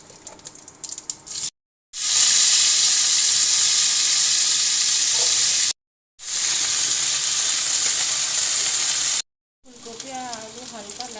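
Potato and cauliflower pieces fry in hot oil with a loud, steady hiss, broken by two short cuts. Some stirring is heard and a faint voice comes in at the end.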